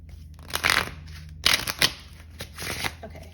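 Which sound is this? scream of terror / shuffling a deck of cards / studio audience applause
shuffling a deck of cards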